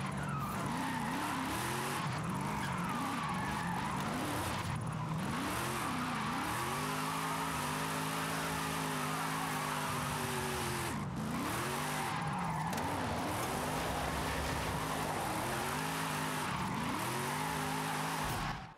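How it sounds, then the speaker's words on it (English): A Donut Media Formula Drift Nissan 240SX drifts in Forza Horizon 5, its engine revving hard in rising and falling surges over continuous tire skids, loud and close throughout. "Bumper to bumper on the Donut Media Formula Drift Nissan 240 SX."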